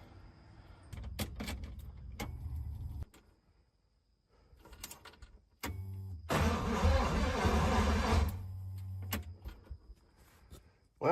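A 1956 DeSoto barn find, unrestored, cranks over in a long loud burst of starter churning between sharper clicks and clunks near the car, with brief quiet gaps before and after.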